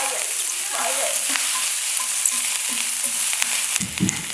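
Vegan japchae ingredients frying and being stirred in a pan, a steady close sizzle with scraping stirs and a louder clatter near the end, no talking.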